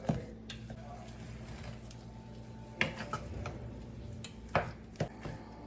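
Ground meat for a meaty spaghetti sauce is broken apart in a pan over medium-low heat, giving soft scraping and tapping knocks, a few sharper clacks, and a low steady hum underneath.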